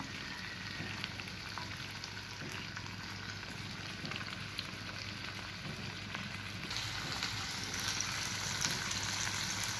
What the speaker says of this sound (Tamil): மீனெல்லாம் எண்ணெயில் போட்டு பொரிச்சுக்கிட்டு இருக்கோம்